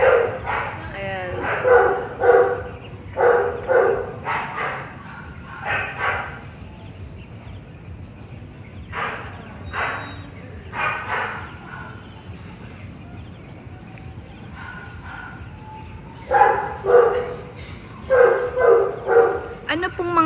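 Several dogs bark and yip in repeated loud bursts while receiving injections, close by, with people talking in between the barking.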